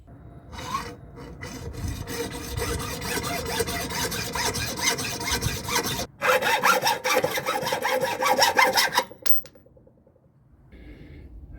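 A water heater anode rod is sawn through to shorten it, giving steady, loud back-and-forth rasping strokes close by for about nine seconds, then a brief quieter scrape after a pause; no one speaks.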